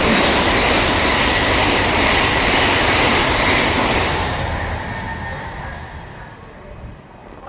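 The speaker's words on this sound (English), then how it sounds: "Passing through now is a Great Western Railway service to London Paddington." A Great Western Railway service to London Paddington passes through Slough station with a loud, close rumble and rattle of wheels. The sound fades toward the end as the train moves away.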